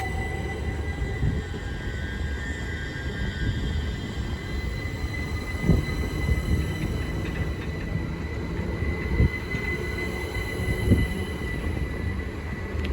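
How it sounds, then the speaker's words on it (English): A Greater Anglia passenger train departs Cambridge North station bound for London Liverpool Street, giving a steady low rumble with faint wheel squeals and a few brief clunks, heard from the platform. "also now departing is the 1303 Greater Anglia service from Cambridge North to London Liverpool streets"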